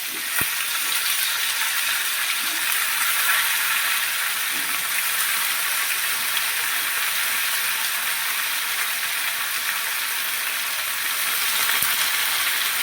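Soybean chunks frying in a pan for a Bengali vegetarian dish, a steady broad sizzle held at even loudness throughout, with a couple of faint clicks near the start and end and no talking.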